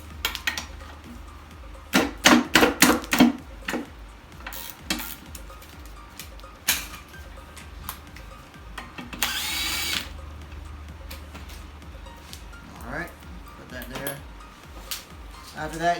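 Bolt removal on a Honda B-series transmission during disassembly: a burst of sharp, rattling ratchet or power-tool clicks up close, then scattered metallic clinks and scrapes of parts being handled, with faint speech at moments.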